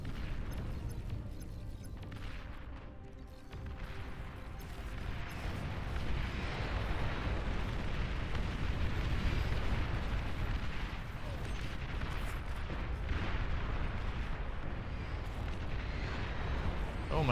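Heavy artillery-style fire from a Cerberus unit in the strategy game Beyond All Reason, a dense, continuous rumble of booms and explosions throughout a large team battle.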